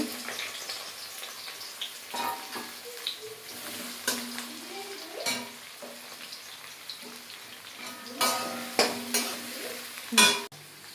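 Onions sizzle in hot oil in a home kitchen pan, with a steady frying hiss broken by repeated scraping clicks of a spoon stirring, close and fairly quiet throughout.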